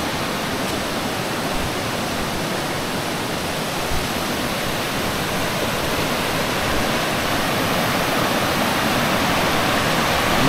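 Rushing water from a stream at Sitio Catmonan in Mati City, Davao Oriental, a steady broadband roar that stays loud and unbroken throughout with no speech over it.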